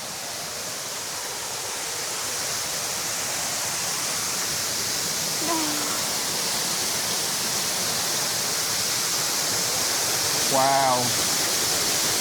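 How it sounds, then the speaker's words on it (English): Broadband rushing water from a waterfall inside an indoor rainforest, steady and loud throughout, with a brief exclaimed voice and a short chirping call partway through. "And we've just found a waterfall."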